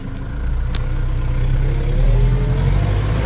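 A Case 844 XL Plus tractor engine revs steadily in high gear, a loud, continuous low mechanical drone with a pitch that rises slowly throughout, heard up close with no talking.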